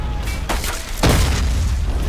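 Explosion in the Men of War war video game, a loud booming blast with a sharp onset followed by a heavy rumbling tail, amid dense battle noise.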